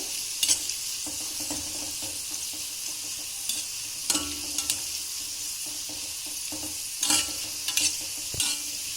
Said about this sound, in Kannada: ಸಣ್ಣ ಉರಿ ಇಟ್ಕೊಂಡು ನಿಧಾನಕ್ಕೆ ಕರಿಬೇಕು